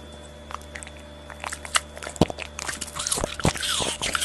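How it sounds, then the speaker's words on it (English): A dog munches fresh fruits and vegetables up close, with irregular crisp bites and crunches that grow busier toward the end, wet squishy chewing between bites and a faint steady hum behind. "enjoy the soothing sounds of this dog munching on some fresh fruits and veggies"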